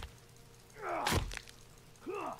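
A hacking blow lands on an enemy's body in the survival game The Forest, a single heavy thunk with a short wet crunch, followed by fainter scraping and a brief groan-like tone.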